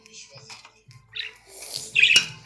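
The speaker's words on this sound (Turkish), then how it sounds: "Bunlar kuş arkadaşlar." A bird gives scattered squawks and chirps, with a harsh, louder squawk near the end, mixed with a few soft voice-like sounds.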